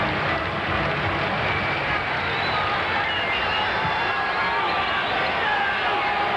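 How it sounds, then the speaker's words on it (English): Ballpark crowd at a 1987 Braves–Astros baseball game booing a called strike, a broad sustained roar of many voices at steady loudness, with no speech over it. "The crowd boos, but that was a strike."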